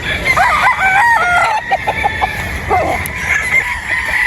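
Broodstag roosters and pullets in farm pens, with loud repeated crowing and clucking close by, several birds calling over one another without talk.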